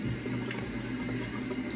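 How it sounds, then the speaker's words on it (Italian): Hot water runs from a tap during a Turkish-style shave, a faint, steady trickling stream that continues evenly for the whole short moment, with no speech. "Un po' d'acqua calda."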